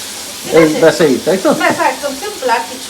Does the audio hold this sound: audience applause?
no